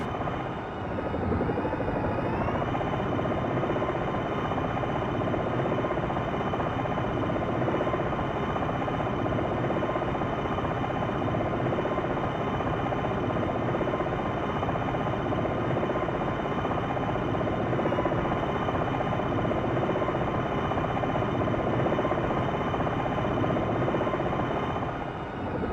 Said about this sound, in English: Landing a helicopter is easy when compared to fixed-wing aircraft.